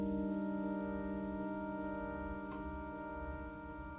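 A lofi chord played on an Elektron Digitone synthesizer with reverb and delay, a sustained tone that decays slowly into a lingering tail, with a faint soft click partway through and no talking.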